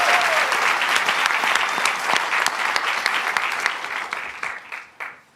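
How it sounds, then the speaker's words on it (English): An audience at the MIT $100K pitch competition breaks into loud, dense applause for the sponsors, a sustained wash of clapping that thins out and fades over its last second. "if everyone can just give them a big round of applause"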